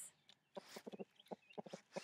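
Several chickens cluck in short, uneven bursts nearby, soft and close, with a faint high chirp in the background.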